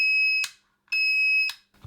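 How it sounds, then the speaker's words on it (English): A Draper DMM200 digital multimeter gives two loud, shrill continuity beeps, each about half a second long with a sharp click at its end, separated by a short gap of silence. "the beep function's working"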